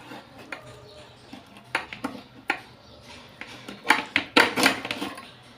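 A knife cuts through a large three-kilo fish on a board, making scattered close taps, scrapes and chops that grow denser and louder toward the end, with no one speaking.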